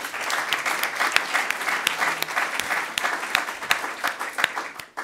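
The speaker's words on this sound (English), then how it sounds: "I'd like everyone to give a big round of applause to our speakers today" An audience at a thematic session on decarbonizing building materials claps for the speakers, a steady crowd applause that holds evenly before tapering at the end.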